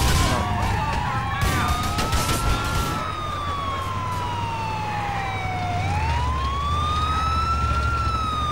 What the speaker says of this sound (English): It is the San Andreas ambulance.